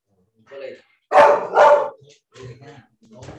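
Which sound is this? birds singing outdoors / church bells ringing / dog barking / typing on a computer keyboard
dog barking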